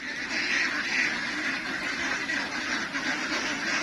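Ducks quacking on a farm: a continuous, moderately loud chorus of overlapping quacks from a flock, steady throughout with no pauses.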